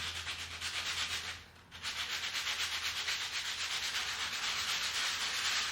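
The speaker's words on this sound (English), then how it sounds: "Keep most of the sanding in one area." Terrazzo floor repair being hand-sanded with a wood block, a steady rhythmic rasping scrub close by that pauses briefly midway, then continues evenly to the end.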